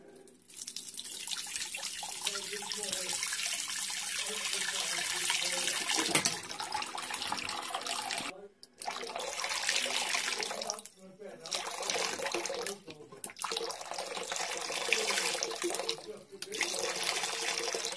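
Water rushes steadily through a Glowworm boiler being flushed of muck via two connected hoses, one to the mains and one running outside, a loud continuous broadband gush broken by several brief stops and restarts.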